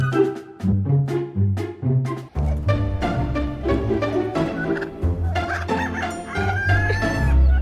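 A chicken clucks and squawks loudly and close, in a busy run of calls with short gaps, some rising into crowing-like cries.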